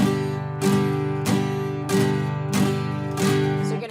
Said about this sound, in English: Hear that snapping of the strings.